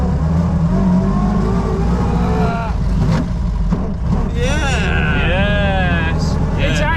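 A vintage Austin 7 car drives around Bicester Heritage, its small engine droning steadily and loudly up close, with rising whines as it speeds up and people talking over it.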